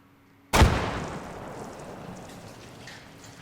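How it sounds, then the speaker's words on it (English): A single loud grenade blast in Arma 3, a sharp close detonation followed by a long fading rumble and scattered debris. "I'm probably gonna have to throw a grenade"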